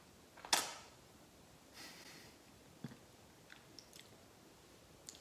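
Banana and peanut butter bites are chewed close up in a quiet room: a sharp initial bite followed by soft, sparse mouth sounds and faint clicks.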